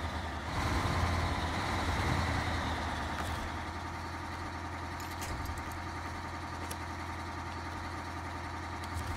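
A Panther truck in the game SnowRunner idles with a low, steady engine rumble, a little louder at first and then even and continuous.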